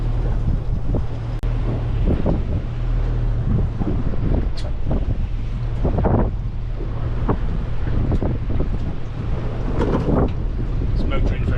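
A boat motors on the open sea under a steady low engine drone, with heavy wind buffeting the microphone and waves splashing against the hull throughout.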